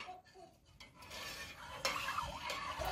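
A spoon scrapes and swirls through pekmez with added sugar in a pot while walnut sucuk is being made, giving soft, close stirring sounds with a few sharper clinks against the pot.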